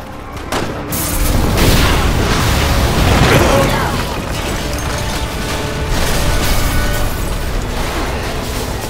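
A gas explosion in the video game Resident Evil 6 hits as a loud, heavy boom. A long rumbling, crackling roar follows and sustains for several seconds of game action.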